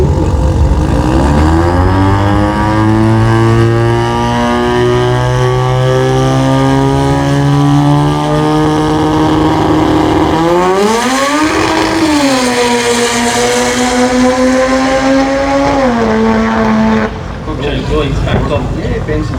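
A 13B turbo rotary drag race car makes a run at a drag racing event: a loud, buzzing engine note climbs steadily, with gear changes dropping the pitch before it rises again, then it fades off toward the end.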